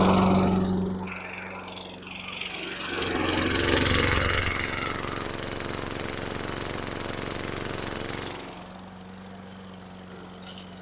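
An old junk walk-behind lawn mower with front wheel drive starts and runs a little smoky, a loud close engine whose pitch and roar swell for several seconds, then settle into a steady idle.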